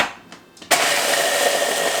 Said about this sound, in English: Got my little blender here.